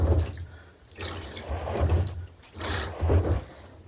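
Water splashes and sloshes in repeated surges as a bagless vacuum cleaner filter is rinsed and swished in a basin, close by, with no talking.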